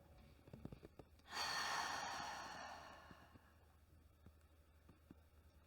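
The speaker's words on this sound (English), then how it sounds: "deep inhale. Exhale through the mouth." Long deep breath from a yoga practice, a single smooth airy exhale through the open mouth swelling up and fading slowly over a couple of seconds, close and fairly soft, with no talking.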